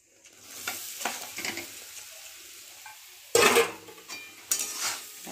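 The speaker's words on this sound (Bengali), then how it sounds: "ডালটা দিয়ে ভালো করে কষিয়ে নেব," Lentils for a kachori filling stir-fry in a pan with a continuous low sizzle, broken by light scraping and then two sharp, louder scrapes of the spoon against the metal.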